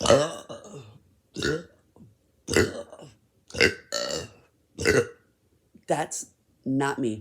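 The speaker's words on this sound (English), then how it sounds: "The gastritis makes me burp." A person with gastritis lets out a series of loud, deep burps, about seven separate belches spaced evenly with short silences between, close and prominent, with a brief spoken remark at the start.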